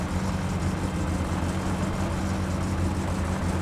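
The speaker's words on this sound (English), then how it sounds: "Apologies for the noise, by the way, the exhaust falling off." Car engine running with its exhaust fallen off in the driving game My Summer Car, a loud, raw, steady rumbling drone with no talking, unchanging for the whole stretch.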